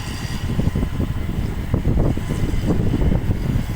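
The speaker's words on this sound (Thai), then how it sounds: "โอ้ลมแรงครับ" Strong wind roars and buffets the microphone in a steady, loud low rumble with gusty surges throughout.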